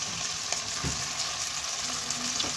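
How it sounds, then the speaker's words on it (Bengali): Methi malai chicken masala sizzles steadily in a pan on low gas, a continuous frying hiss with a few soft stirring scrapes, close and moderately loud, no voices. "এই সব কটাকে আমি ভালোভাবে কষে নেব।"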